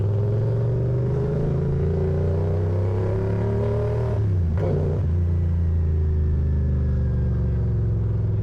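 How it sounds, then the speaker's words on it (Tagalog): A motorcycle passes by on a roadside near Taal, Batangas: a steady engine drone with a low rumble swells briefly midway as it goes past, then settles back into continuous traffic hum. "Isa dinaanan ng motor."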